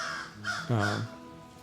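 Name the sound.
crow cawing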